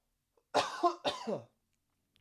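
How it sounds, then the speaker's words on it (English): Two harsh coughs in quick succession, close and fairly loud, surrounded by silence. "Had to cough, man."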